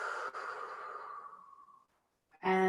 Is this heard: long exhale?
yes